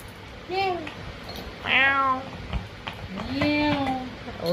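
A cat meows three times, drawn-out rising and falling cries close by, over a quiet background hum.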